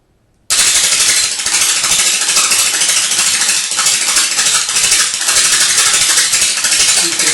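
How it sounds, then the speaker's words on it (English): A high-tension Tesla pancake "kicking coil" with its interrupter tension loosened gives a loud, harsh, continuous sputtering buzz that cuts in abruptly after a brief silence and runs steadily to the end, with no talking. "you can see more of a sputtering effect."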